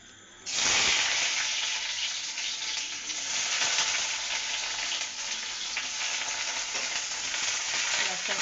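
Onion hits hot oil with cumin seeds and erupts into loud, close sizzling that then holds as a steady frying hiss, with no one speaking over it.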